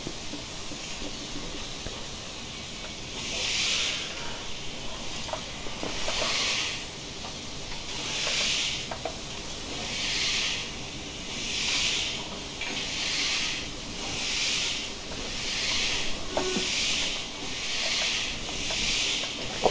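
Steam hisses in repeated rhythmic bursts, roughly one per second, from the open cylinder cocks of a J94 0-6-0ST Austerity saddle tank locomotive in Train Simulator Classic as it moves off slowly at low volume.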